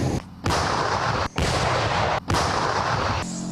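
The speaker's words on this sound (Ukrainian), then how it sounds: "Ви чуєте, як гуркоче фронт?" Heavy booming bursts of tank gunfire at the front line in Ukraine roar close and continuous, broken by a few brief gaps, sounding like sustained cannon or artillery fire.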